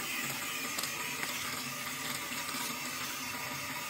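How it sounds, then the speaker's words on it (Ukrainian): Steady, close rush of water from a salon sink spray as a client's hair is wetted before washing, running continuously and evenly throughout with no speech. "Ми гарно мочимо голову."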